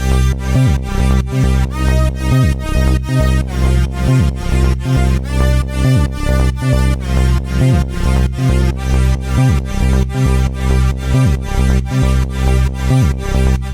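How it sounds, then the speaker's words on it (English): A bright 90s trance synthesizer lead, made in Reason, plays a flowing melody over pumping sidechained chords and a steady thumping kick, the whole mix swelling rhythmically with each beat. "I didn't do much with this lead sound"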